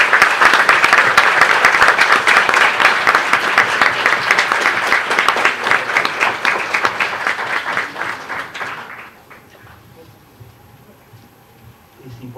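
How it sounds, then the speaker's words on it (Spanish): Loud, sustained applause from a conference audience honoring graduating classes of young people in San Marcos, dense clapping that runs for about nine seconds before fading out to near quiet. "un aplauso para las 3 promociones de 100 jóvenes en San Marcos"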